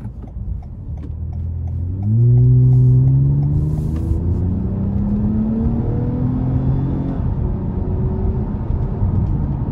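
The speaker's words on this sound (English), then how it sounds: "So I'm just gonna drive it now in sport mode with just the 8-speed without me manually shifting" A 2021 Toyota Camry TRD with a 3.5 V6 and 8-speed automatic drives in sport mode. The steady engine drone climbs in pitch, drops at upshifts and climbs again under continuous road rumble.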